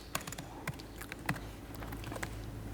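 Code is typed on a computer keyboard in soft, irregular clusters of quiet key clicks over a faint room hum.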